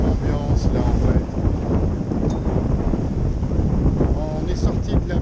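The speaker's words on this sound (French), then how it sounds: "on a pris un coup de vent qui est monté jusqu'à 41 nœuds d'apparent" A strong wind gust at sea roars across a sailboat, rushing and buffeting the microphone with loud, steady turbulence, and a voice speaks faintly beneath the roar.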